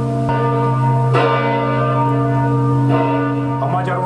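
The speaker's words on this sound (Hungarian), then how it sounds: "Először ismét felhangzott a nekünk oly kedves déli harangszó." Noon church bells ring in Hungary, loud and close, with long resonant tones overlapping and decaying while new strikes sound every second or two.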